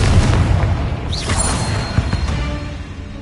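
A Confringo fire spell blasts in Hogwarts Legacy, a loud booming explosion with a sharp burst at the start and a crackling, rumbling tail that slowly fades.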